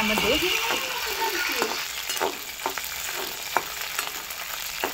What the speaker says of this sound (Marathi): बघा आता मिरची भाजत आहे